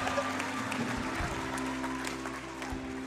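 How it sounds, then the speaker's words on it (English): Audience applause in a church service, a steady sustained patter of clapping from a sizeable congregation, fairly even in level throughout with a low hum beneath. "this man deserves more applause"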